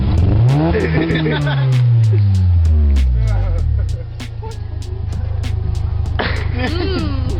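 A car engine revs hard and close, its pitch sweeping down and back in several climbing, falling pulls before settling into a rough, steady idle, with regular clicking ticks throughout and voices briefly mixed in.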